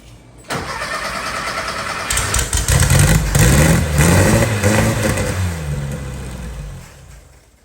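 An air-cooled VW Thing engine cranks, catches and runs loud and close, revving unevenly in surges before settling and fading toward the end.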